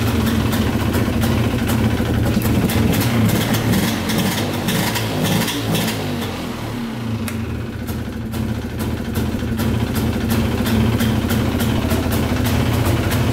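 Polaris 400 4x4 ATV engine idling close by, a loud rough rumbling putter that dips briefly midway before settling back into a steady idle, with no speech.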